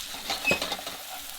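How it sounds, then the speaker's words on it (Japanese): Sliced onions and garlic sizzle softly in a frying pan while being stirred to scrape up the browned bits from the bottom, a brief faint patter of frying and scraping close by. "このままフライパンの中に先ほど用意した玉ねぎとニンニクのエマンセを入れて、 鍋底についた旨味を剥がしながら火を入れていきます"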